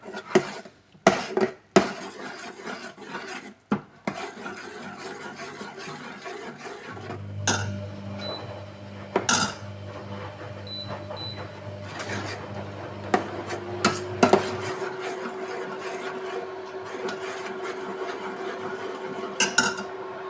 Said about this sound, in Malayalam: ഒരു അര സ്പൂൺ നെയ്യ് നന്നായി ഇളക്കിയെടുക്കാം